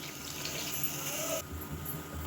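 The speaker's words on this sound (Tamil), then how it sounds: "அரிசியிலேருந்து தண்ணியை வடிச்சிட்டு இந்த தண்ணியை வந்து இப்போ சேர்த்துக்கலாம்." Hot water is poured into drained, soaked basmati rice in a pot for Dindigul-style mushroom biryani, making a steady, close splashing flow for about two seconds.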